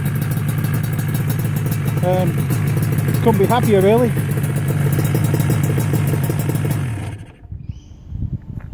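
Yamaha RD350LC two-stroke motorcycle engine idling steadily and crisply after jetting, a loud continuous drone with someone talking over it before the engine cuts off near the end.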